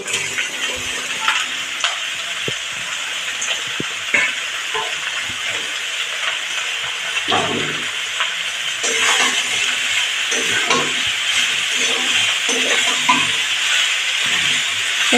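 Ash gourd stirred and frying in a pan, a steady hiss of sizzling oil with scattered scraping stirs and clatters across the whole stretch, no one talking.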